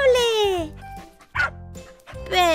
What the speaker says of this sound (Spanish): ¡Voilà! ¡Es un perrito súper adorable!